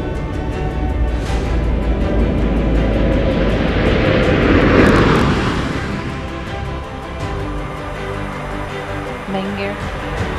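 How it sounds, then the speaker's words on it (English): A NASA Space Shuttle comes in to land, a loud broad roar swelling toward a peak and then fading, heard without talk over it. "Main gear touchdown."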